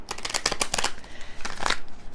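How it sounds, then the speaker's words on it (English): A fairly new deck of oracle cards is given a quick shuffle by hand, with rapid riffling bursts and then a short second flutter, close and alone. "I'm going to give it a quick shuffle"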